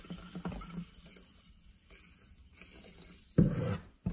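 Sparkling water is poured in a short, loud splashing burst near the end, after several seconds of quiet with faint small clinks and handling sounds.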